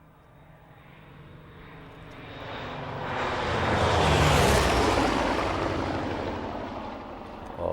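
A Corsair fighter plane's piston engine roars in flight, swelling from a distant drone to a loud close pass around the middle, then fading slowly away.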